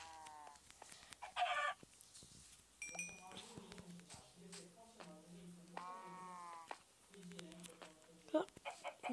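A chicken clucks in short, uneven bursts, with a few louder squawks mixed in, close by and fairly quiet, while people talk around it.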